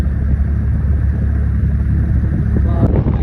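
Wind rushes past a boat out on the Brahmaputra river, buffeting the microphone in a steady low roar over a constant rumble, with a brief knock near the end.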